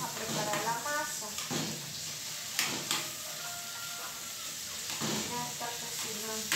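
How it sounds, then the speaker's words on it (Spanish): Food fries steadily in a hot pan while antojitos are cooked at home, a constant loud sizzling hiss with occasional utensil clinks and a voice talking over it. "Vamos a dejar que se fría bien."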